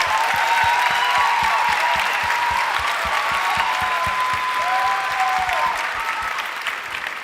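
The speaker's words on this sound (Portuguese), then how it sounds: "Palmas para a nossa turma nota 10." An audience at a church event applauds a class of children, sustained clapping with a rhythmic beat running through it, easing slightly at the end.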